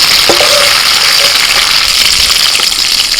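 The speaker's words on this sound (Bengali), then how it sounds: "কপিটাকে একটু তেলের মধ্যে ভেজে তুলে নিচ্ছি।" Cauliflower florets seasoned with salt and turmeric sizzle steadily in hot oil in a pan, a loud, continuous crackling fry with a few sharper pops and faint stirring clinks, no voices.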